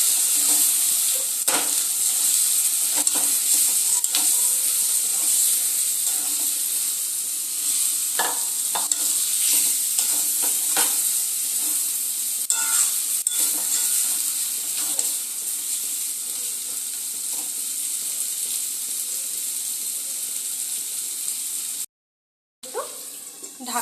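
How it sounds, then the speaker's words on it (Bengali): Chicken pieces fry and are stirred with spices in a pan, giving a loud continuous sizzle with frequent scraping and clacks from the spoon, briefly cutting out near the end. "এবার আমি ধুয়ে রাখা চিকেনগুলোকে দিয়ে দেব চিকেনটা মশলার সময় খুব ভালো করে কষিয়ে নেবো"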